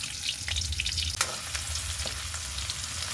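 Finely chopped ginger and garlic sauté in a hot pan with a steady close-up sizzle and hiss, punctuated by a few sharp clicks of stirring, with no voices.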